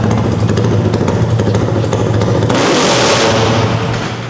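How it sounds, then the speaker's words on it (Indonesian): A heavily modified motorcycle engine revs hard nearby after a timing adjustment, a loud, rough, sustained roar that surges into a brighter blast midway and then eases off, with no talking over it. "Cobain ngegas."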